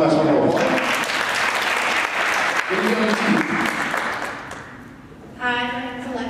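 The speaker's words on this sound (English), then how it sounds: "Let's give her one last round of applause." Audience applause at a future leaders forum for event and meeting planners, a broad wash of clapping that fills the room for several seconds, thins out near the end, and gives way to a voice starting to speak.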